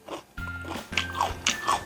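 Crisp, crunchy bites into cubed kohlrabi kkakdugi kimchi, several sharp crunches in quick succession at close range with no talking.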